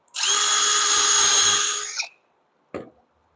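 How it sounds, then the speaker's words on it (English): A power drill pre-drilling wood whirs loudly for about two seconds and spins down, followed by a brief second burst after a pause. "Again, I'm going to pre-drill."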